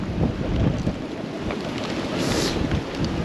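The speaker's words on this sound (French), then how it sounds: "il y a beaucoup de vent." Strong wind gusting across a seaside jetty on a rough day, buffeting the microphone with a loud, low roar that rises and falls irregularly, with no speech heard.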